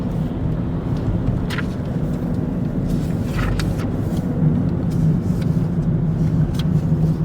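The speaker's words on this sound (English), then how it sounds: "I think the traffic's starting again." Road traffic heard from inside a moving car: a steady, continuous low engine and tyre rumble fills the cabin, with a few faint passing whooshes and clicks and no talking.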